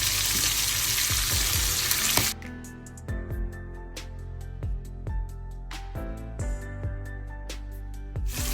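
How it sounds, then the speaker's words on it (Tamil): Prawns fry in oil in a pan for a prawn noodle dish: loud, broad sizzling at first that drops away, followed by a series of close clanks and knocks from metal cookware, with no talking. "இப்போ இந்த இறால் பொரிஞ்சிட்டது."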